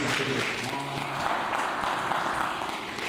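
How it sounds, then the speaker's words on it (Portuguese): A church congregation applauds at the close of a teaching session, giving a dense, continuous wash of clapping with a few indistinct voices mixed in. "As palmas para o Senhor Jesus."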